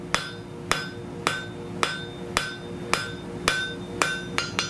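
A hammer strikes a hot metal bar at a steady pace, drawing a length of it down from about 3/8 inch round toward 3/8 inch square. There are nine sharp, ringing blows spaced roughly half a second apart, close and clear, with no talk.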